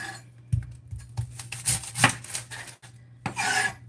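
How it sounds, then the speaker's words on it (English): A knife chops through half an onion on a cutting board in a string of quick, close, crisp cuts with short pauses between them. "Here's a really quick way to cut an onion."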